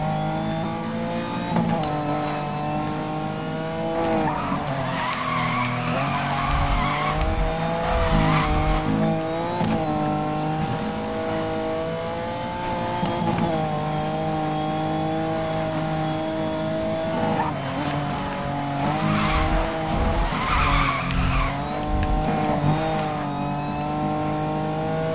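Need for Speed Most Wanted 2012 drift attack in a BMW: a steady engine drone with revving swells and repeated tire squeals as the car slides through corners, loud and continuous without talk.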